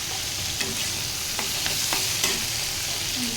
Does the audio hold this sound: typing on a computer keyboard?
no